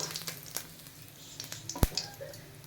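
Ingredients being lightly fried in oil, heard as a soft, close crackle and sizzle with scattered pops and one sharp clatter near the middle, fairly quiet overall with no talk.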